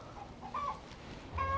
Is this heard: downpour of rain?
no